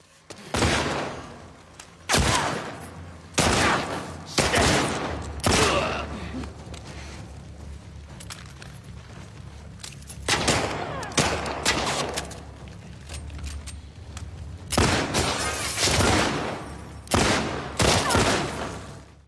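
Scrappy gunfight in The Last of Us Part 2, with bursts of gunfire arriving in separate volleys of several shots spread across the scene and quieter stretches between them, alongside occasional gasps and grunts.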